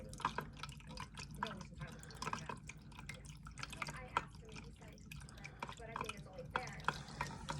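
Items soaking in a container of water are stirred, giving soft sloshing, dripping and wet clinks at close range, quiet and continuous.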